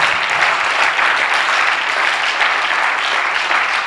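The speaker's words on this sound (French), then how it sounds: "Acclame pour toi alors." Loud, dense applause from an audience at a church seminar, continuous clapping that fills the whole moment at a steady level, with no individual claps standing out.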